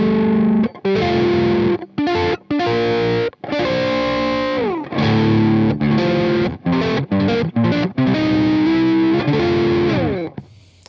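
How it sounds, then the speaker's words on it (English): Electric guitar played through the lead channel of a PRS MT15 amp, heavily distorted with sustained riffs and chords, loud and continuous with brief stops between phrases, no talking. "I don't find the gain, or I should say the lead channel on the PRS MT15 to be very diverse in terms of tones"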